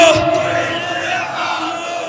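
Large crowd roaring a unified chant in reply to a takbir call at a religious gathering, a loud sustained swell of many voices shouting together.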